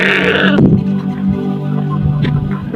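A sheep for Eid bleats loudly and close at hand in a Sudanese comedy sketch, its wavering cries running through the whole short stretch against some background noise, with no talking.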